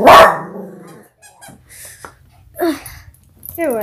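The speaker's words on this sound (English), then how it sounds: "she is barking at somebody" A dog barks once loudly up close, then quieter yaps and a growl follow, with a brief voice near the end.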